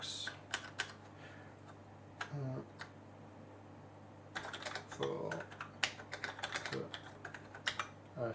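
Keys clatter on an Oric MCP-40 computer keyboard in irregular bursts of quick clicks separated by pauses, close and fairly quiet, with a person speaking briefly.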